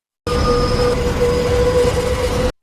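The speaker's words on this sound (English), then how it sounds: "he waits for the train to arrive" A train rolls in along the tracks in a movie scene, a steady loud rumble with a sustained metallic wheel squeal running throughout, with no talk over it.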